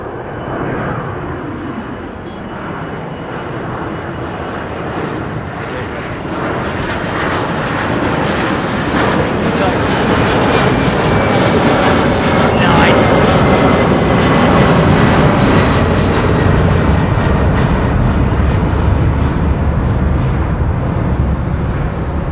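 A Delta jet airliner with Pratt & Whitney PW4000 engines at London Heathrow Airport gives a loud, broad engine roar that swells and holds steady, close by, with no voices.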